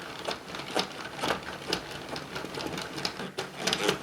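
A Sentro 22-needle circular knitting machine is hand-cranked, giving a steady run of rhythmic plastic clicks and clacks that pulse with each turn and carry on for several seconds without talk.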